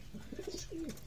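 Pigeons coo in a coop where newly hatched chicks sit, with several soft, low, rolling coos following one another close by and no talking.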